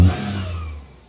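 A single Maruti Omni van engine rev that peaks at the start, then winds down into a low idle rumble and fades near the end.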